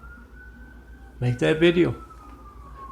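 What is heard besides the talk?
emergency vehicle siren passing outside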